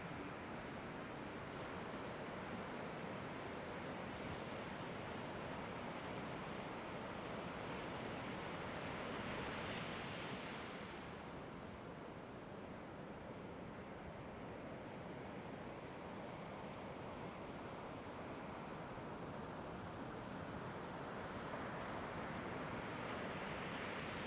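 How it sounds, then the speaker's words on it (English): Consistent three-to-four-foot ocean waves breaking on the shore at Port Alfred under overcast skies, a continuous broad wash of surf with a gentle swell midway, steady and without voices. "the waves seem to be very consistent. A good 3 to 4 foot waves coming in"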